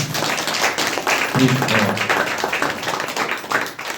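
Dense, continuous clapping from a church congregation, steady and fairly loud, with a voice briefly audible partway through.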